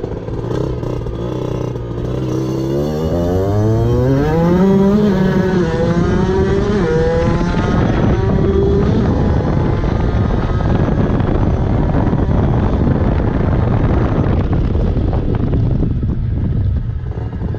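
A 50cc moped fitted with a Most exhaust revs up and down, its whining engine pitch sweeping high before settling into a sustained loud drone, with wind buffeting on the microphone and no voices.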